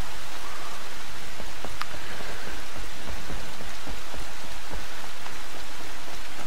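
Rain falling in the video game Horizon Zero Dawn, a dense, steady hiss of heavy rainfall with scattered droplet ticks throughout, loud and continuous, no voices.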